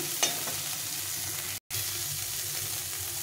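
Small chopped local pond shrimp frying in a pan, giving a steady, close sizzle with light stirring scrapes and a brief gap in the middle.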